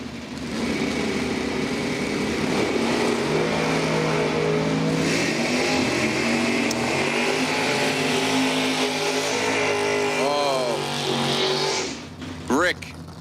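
Drag race cars, a Chevrolet S10 and a Corvette, roar steadily at a drag strip with rising engine pitch near the end, under continuous announcer talk.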